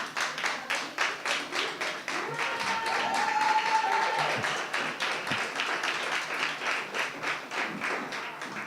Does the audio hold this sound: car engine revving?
no